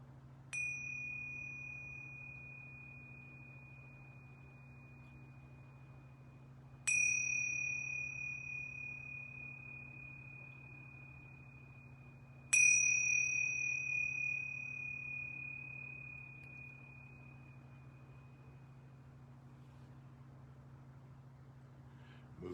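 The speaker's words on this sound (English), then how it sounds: "I'm going to ring these yoga bells 3 times." Yoga bells ring three times, each strike a clear, bright chime that lingers and slowly fades before the next, spaced about six seconds apart over a low steady hum.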